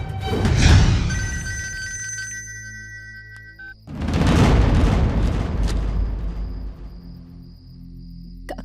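A telephone ringtone sounds in a Bhojpuri family drama scene, with bright repeating tones at first, then heavy booming music swells over it and fades to a low hum.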